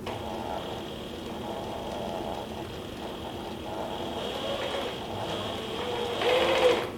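A Mini Sailrite walking foot sewing machine drives stitches through thick leather in a steady, close mechanical clatter that labors and drags at first, then rises louder near the end.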